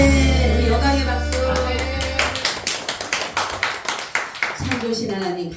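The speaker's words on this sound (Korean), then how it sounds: "우리 영광의 박수" Congregation at a Korean Sunday afternoon church service breaks into rhythmic clapping after a sung or spoken phrase, loud and close, with regular beats following a sustained tone, then voices return.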